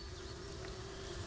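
Honey bees buzzing inside a nuc box during a spring queen check, a steady low hum filling the whole short moment, close and continuous with no talking.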